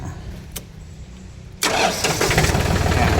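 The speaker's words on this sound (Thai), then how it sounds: "อ่ะคันนี้ซื้อได้นะครับ มีดันดินหน้ามีผ่านหลังนะอ่ะเดี๋ยวสตาร์ทเครื่องให้ฟังนะครับ" A tractor's diesel engine cranks and catches at about the midpoint, then settles into a loud, steady rumbling idle close by.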